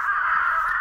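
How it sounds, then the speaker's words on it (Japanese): One single harsh crow caw, loud and close, lasting under a second, in a peach orchard in early winter. "さっきから定期的にカラスの鳴き声がするなぁと思っていたら"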